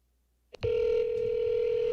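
A cell phone call goes through: two quick clicks, then a steady dial-style tone holds loud and continuous for about a second and a half, close to the handset, with no talking over it.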